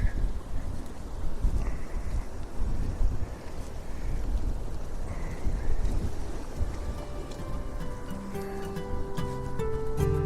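Wind and rain buffet a recorder wrapped in protective covering outdoors in the Cairngorms, giving a constant loud rumbling roar with gusty swells and no talking.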